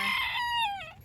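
A backyard rooster, one of a small flock kept in a coop, gives a single clear crow lasting about a second, close and loud, with its drawn-out call falling away at the end.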